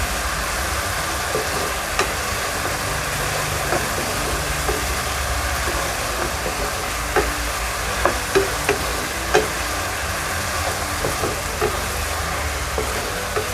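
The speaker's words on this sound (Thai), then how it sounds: "เราก็จะคั่วให้เขาแห้งนิดนึงนะคะ จะได้เกรียมเรียมได้ความหอมกระทะนะคะ" Steady sizzling of chicken stir-frying with garlic and pepper in a hot pan, with a few soft scraping clicks of a utensil, no voices.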